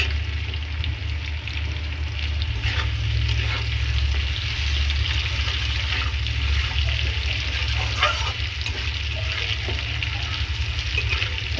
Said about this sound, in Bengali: আলুটা একটু ভেজে নিচ্ছি প্রথমে নুন আর হলুদ একটু ভেজে নেব লাল লাল করে